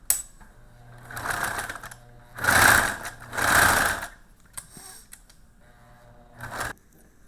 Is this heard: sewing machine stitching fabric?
yes